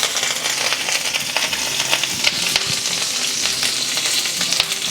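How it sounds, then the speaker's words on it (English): Whole spices, star anise, cinnamon stick and curry leaves, fry loudly in hot oil for a chickpea curry, a steady dense crackle with scattered sharp pops and spits, close up with no talking. "Now I'm going to add star anise, cinnamon stick and curry leaf."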